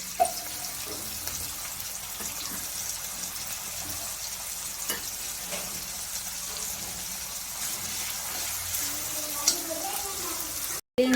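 Crushed ginger and garlic sizzle in hot coconut oil at the start of a white chickpea curry, a steady close crackling fry with occasional stirring scrapes that runs continuously before a brief cut near the end.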